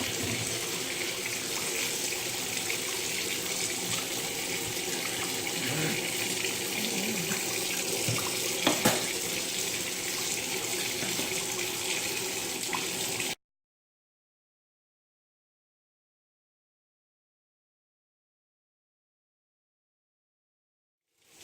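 Tap water runs steadily from a faucet into a sink while a thrift-store doll is washed, a loud continuous gushing close by with a brief clatter, then it stops abruptly into silence.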